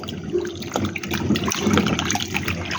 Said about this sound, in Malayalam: കപ്പ നന്നായിട്ട് ഇപ്പോൾ ഇത് നാലാമത്തെ തവണയാണ് കഴുകിയെടുക്കുന്നത്